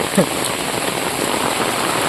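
Heavy monsoon rain pouring in a town street in Tirunelveli, with floodwater running through the lanes; a constant dense hiss of rain and flowing water, close and loud, with a brief voice near the start.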